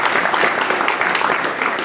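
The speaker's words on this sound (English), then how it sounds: "we all need to give each other a large round of applause" An audience applauds award recipients at a recognition ceremony, dense and loud clapping from a large crowd filling the whole moment without a break.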